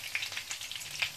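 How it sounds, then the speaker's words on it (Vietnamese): Tofu pieces fry in hot oil, giving a close, steady sizzle with small crackling pops scattered across the brief moment. "Mình chỉ chiên nó vàng vàng bên bề mặt ngoài thôi."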